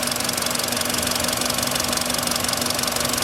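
A hot car engine with a cracked spark plug insulator in the first cylinder knocks at idle, giving a fast, even ticking over a steady hum. The knock is close and continuous throughout.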